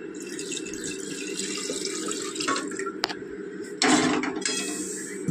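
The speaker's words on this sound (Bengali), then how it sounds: "এবার গরম করে রাখা জলটাও আমি দিয়ে দেব" Hot water poured into a pressure cooker of mutton masala curry, a close splashing pour with metallic clinks, swelling into a louder gush near the end, no voices.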